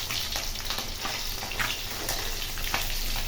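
Fish fry in oil, giving a continuous close sizzle and crackle with a few faint pops, steady throughout and with no voices.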